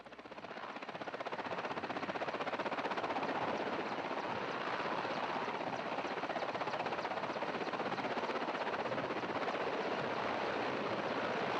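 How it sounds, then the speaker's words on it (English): A loud, steady roar of helicopter rotors and engines as helicopters take off near Houston, Texas, sustained throughout and growing slightly at the start, with a gusty, wind-like wash. "As you can tell just from the helicopters taking off"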